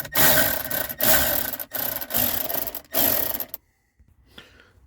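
Close, gritty whirring from a driver backing out T20 Torx screws from a blend door actuator on a 2007–2013 Chevrolet Silverado or GMC Sierra, heard in several steady bursts with brief gaps, then falling quiet.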